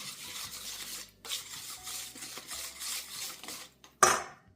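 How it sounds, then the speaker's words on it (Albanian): Tomato paste, oil and mixed spices stirred in a bowl with a spoon, giving close bursts of scraping and rubbing that pause briefly, ending in a sharper clink, with no talking. "Vazhdojmë shtojmë pak erëza të përziera. Përziejmë mirë tani."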